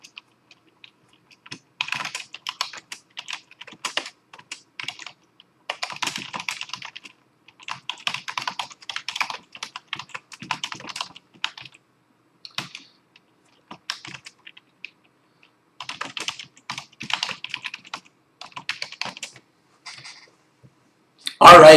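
Close, crisp computer keyboard typing during a live IELTS speaking lesson, in irregular bursts of keystrokes separated by short pauses, ending with a louder thump.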